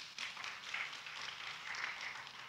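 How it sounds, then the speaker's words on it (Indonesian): Congregation clapping at a Christian revival service, a steady wash of many hands applauding together through the whole stretch, moderately distant and fairly soft, with no voices on top. "Tepuk tangan buat dia"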